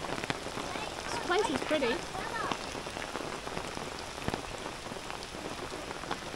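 Rain falls steadily on a campsite awning at an eco camp, a close, continuous patter with scattered louder drips, while a person speaks briefly and a bird calls once.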